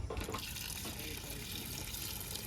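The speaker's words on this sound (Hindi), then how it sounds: "तो इसमें ऐड करेंगे हम पानी।" Water being poured into a pot of soaked chickpeas for dhaba-style Pindi chhole, making a steady close splashing gush that runs without pause.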